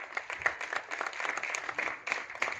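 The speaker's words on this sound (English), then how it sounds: "Ladies and gentlemen, big round of applause for Mrunal and Shahid Kapoor." Audience applause for Bollywood actors Mrunal and Shahid Kapoor at the Jersey film trailer launch, a dense, steady wash of many hands clapping at moderate distance, continuing evenly throughout.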